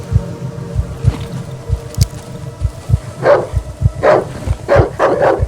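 Dog barking in the horror video game Darkwood, a series of loud, close barks in quick bursts over a steady rhythmic thumping like a heartbeat in the game's soundscape.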